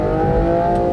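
A 2025 Aston Martin Vanquish's twin-turbo V12 holds a loud, steady rev, giving a deep, smooth drone with strong low harmonics close up for about a second, and nobody talking.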